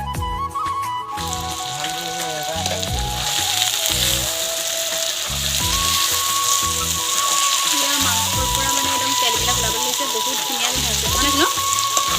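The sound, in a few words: meat frying and sizzling in a pan, Assamese curry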